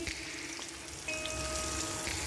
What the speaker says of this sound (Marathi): आपण बघूया. हे बघा, आधी आपण मधली